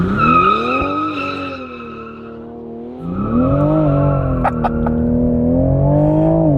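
A Toyota launches hard on launch control, its engine note climbing in strong harmonic sweeps as the tyres slip and squeal, easing briefly before revving up again, loud and close throughout.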